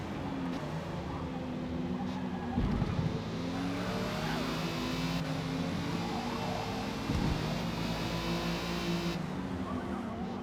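A rear-wheel-drive VW Golf R32 racing in a video game, its engine droning and revving steadily throughout with surging pitch and brief lifts at gear changes, loud and close, with no talk.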